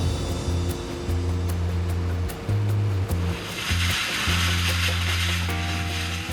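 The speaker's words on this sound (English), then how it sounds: "the water cuts through the concrete like a knife through butter" High-pressure water jet blasting concrete apart, a loud hissing roar of spray swelling in intensity over a heavy, pulsing machine drone nearby.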